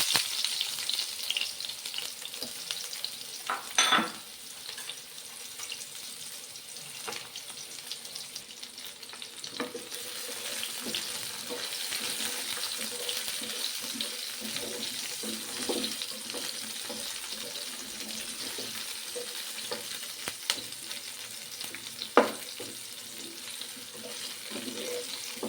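Dried red chillies and onion fry in a pan with a continuous close sizzle that runs throughout, with a few sharper crackles and light clatter along the way.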